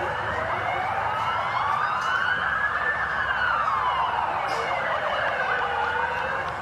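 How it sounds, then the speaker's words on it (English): Ambulance sirens wail in the background at a one-day domestic cricket match in Australia, two overlapping rising and falling tones that run steadily and moderately loud with no talk over them. "Dueling ambulances here in the background"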